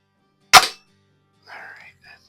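Single sharp crack of an antique Quackenbush or Gem spring-powered air gun firing close by, followed about a second later by a faint metallic ring and rattle.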